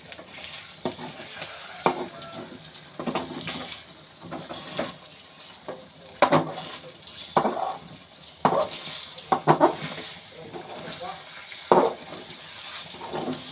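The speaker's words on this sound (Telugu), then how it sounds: "కొద్దిగా మెల్లగా విరిగిపోకుండా ఇట్లా కలపాలి" Eggs frying in a pan are stirred gently, a steady sizzle running underneath while soft scraping strokes of the spatula come through at an irregular pace, close and fairly quiet.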